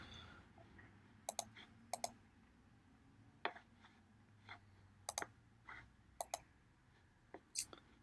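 Several sharp, quiet mouse clicks scattered across a quiet room, some in quick pairs, as a publish button is clicked on a Facebook ads lead setup page; no talking.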